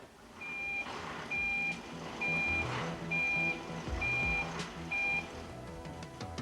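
A Crown fork truck backs up with a steady series of loud reversing beeps, about one short tone every second, repeating over a low mechanical rumble with no one talking.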